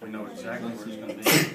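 A single sneeze bursts out near the end of a lecture hall talk to a medical student audience, loud and brief after steady speech from a presenter.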